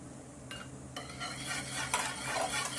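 A spoon stirs gelatin into a hot, freshly boiled mixture in a pan for banana panna cotta, giving quiet scraping strokes and a few soft metallic clinks against the pan.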